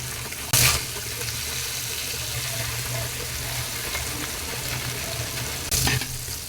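Masala-coated fish pieces fry in a pan with a constant dense sizzle, and two brief louder crackling bursts near the start and end as pieces are flipped. No one speaks.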